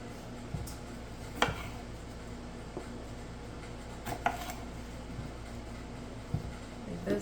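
Garden vegetables for salsa get moved into a second pan, with scattered clinks and soft knocks of pans and utensils against a quiet kitchen background, a few sharper taps spaced irregularly.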